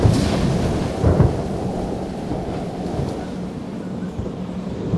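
Thunderstorm with a deep, rolling rumble of thunder that swells near the start and again around the first second, then lingers as a loud, continuous low roar.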